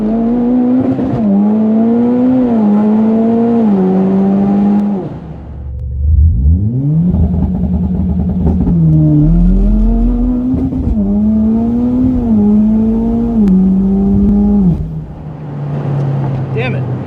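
A Mitsubishi Evo X MR with a TCU 9000 upgrade holds loud, steady revs against the limiter on a launch attempt. The engine drops off, then climbs back to a buzzing, bouncing hold before easing away, heard from inside the car.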